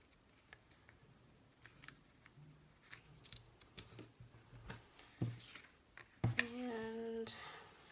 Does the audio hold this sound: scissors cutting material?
yes